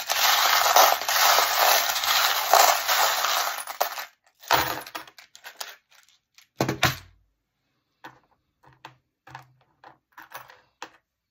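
Jingling and rattling of small metal charms shaken together for several seconds, then scattered light clinks and taps with pauses between.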